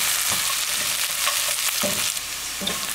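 Onions browning in oil in a pan on the stove for an Indian chana masala, a steady close sizzle and frying hiss with a few stirring scrapes, no voices.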